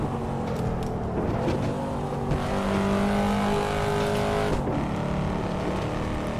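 A Corvette C7 Stingray cruising in fifth gear in the Assetto Corsa video game, its engine holding a loud, steady drone with shifting tonal whine and a faint tire squeal.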